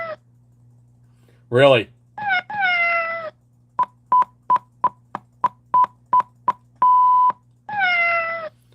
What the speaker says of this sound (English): That's probably the cat